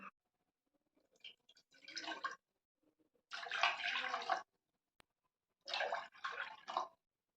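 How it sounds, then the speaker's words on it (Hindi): Water is poured into a pan in three separate splashing bursts, each a cup's worth, for making lemon tea for three people, close and clear with short silent gaps between pours. "हम 3 लोगों के लिए चाय बना रहे हैं, तो इसमें 3 कप हम पहले पानी के डालेंगे।"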